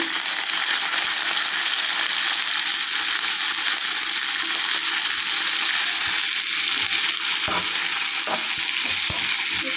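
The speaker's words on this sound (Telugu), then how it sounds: "నూనెలో బాగా వేగాలండి." Brinjal pieces fry in plenty of hot oil, a loud, dense, unbroken sizzle with a few soft stirring knocks near the end.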